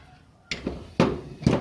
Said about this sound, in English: This is going to be rusty, so I'm going to hit it with a soft hammer like that.